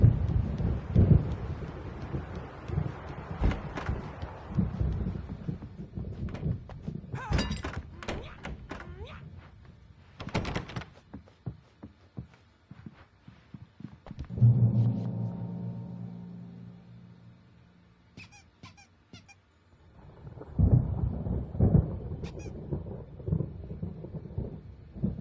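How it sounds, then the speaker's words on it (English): Stormy night in Alan Wake Remastered: deep thunder rumbles and heavy thuds roll in and out under steady rain, with sharp cracks scattered throughout and a low sustained drone in the middle stretch. "The storm is almost here."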